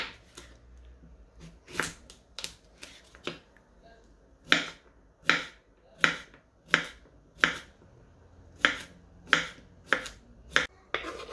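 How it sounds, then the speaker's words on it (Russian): A knife chops through cucumbers on a board for a summer salad, in a series of sharp, crisp cuts, irregular at first, then falling into a steady rhythm. "Далее нарезаем огурцы."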